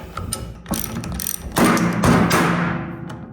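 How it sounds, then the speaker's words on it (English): An 18mm socket and 19mm wrench loosen a steering clamp, giving close, rapid ratchet clicks and clanks, a few thumps, then a louder grinding stretch that fades out. "I'm gonna have to loosen up this clamp first using a 18mm socket and 19mm wrench"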